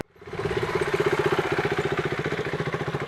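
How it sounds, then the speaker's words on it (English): A motorcycle engine runs at low speed as the bike begins rolling, a near, steady, evenly pulsing mid-pitched putter that lasts throughout, with no talking. "the motorcycle starts rolling on its own"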